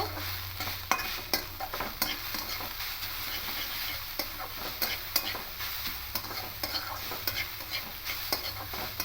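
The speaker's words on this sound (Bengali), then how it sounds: "এইভাবে লো ফ্লেমে রেখে তিন চার মিনিট ধরে একটু নাড়তে হবে" Watermelon rind is stirred in a pan over a low flame, giving a gentle, steady sizzle with frequent sharp clicks and scrapes of the spoon against the pan.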